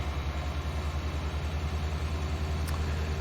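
A tractor engine in Farming Simulator 19 runs with a steady, continuous low rumble, heard alone at a constant level with no pauses or breaks.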